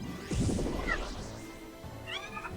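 Cat meowing in the Kingdom Hearts Dream Drop Distance video game: a short, close, fairly loud meow with rising and falling tones, followed by a fainter second meow, set over game background sound.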